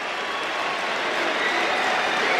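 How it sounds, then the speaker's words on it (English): A rugby stadium crowd at a Rugby World Cup match between Fiji and Portugal claps steadily in a broad, even wash of applause, heard from some distance. "lovely round of applause, including from those very passionate Portuguese supporters in front of us"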